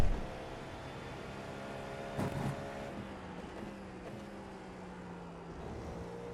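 A GTP prototype race car running flat out at Sebring in the iRacing sim, its engine holding a steady, fairly faint droning whine with a brief louder burst partway through and no talk.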